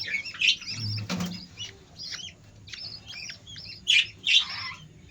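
Busy, high-pitched chirping and squawking from several lovebird chicks in an aviary, with a short flutter of wings early on and a few sharper, louder cries near the end.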